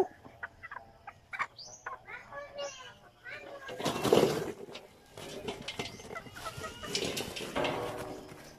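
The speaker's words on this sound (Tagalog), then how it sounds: "Uy, manok." A few clucks from a chicken on a farm sound early on, close by, followed by children's voices and outdoor chatter that take over the rest.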